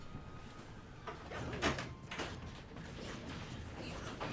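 A door opens indoors, heard as a faint mechanical clunk and brief rattle near the middle, set against steady room hiss with no talking.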